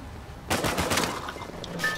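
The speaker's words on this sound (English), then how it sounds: "Yeah, you shoot those wine barrels." Gunshots fired at wine barrels in an Uncharted multiplayer match: a quick cluster of sharp bangs after a half-second lull, followed by smaller clatters and a faint ringing tail, with nobody talking.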